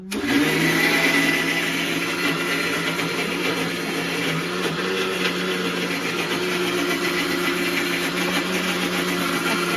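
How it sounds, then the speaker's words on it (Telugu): A kitchen mixie grinder blends lentils with a loud, steady motor whir that runs close and unbroken the whole time, with no voices. "మిక్సీ పడుతున్నాము"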